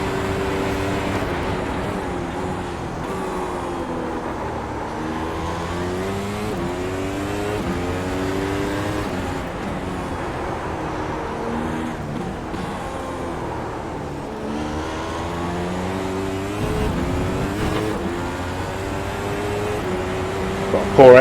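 Formula 1 car in a racing video game at the Dutch Grand Prix, engine revving and rising through gears over a lap, pitch sweeping up and down with each shift, steady and loud throughout.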